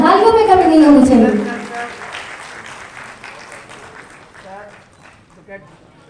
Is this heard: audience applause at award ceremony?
yes